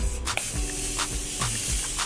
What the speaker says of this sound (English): spray it down with the Morphe Continuous Prep and Setting Spray